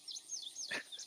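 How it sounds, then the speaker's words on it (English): Faint bird chirps played as morning ambience, a few short rising tweets repeating quietly with one brighter, louder call in the middle, alone without talk. "Got bird noises."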